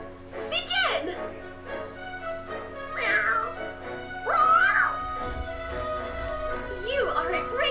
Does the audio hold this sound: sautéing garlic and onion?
no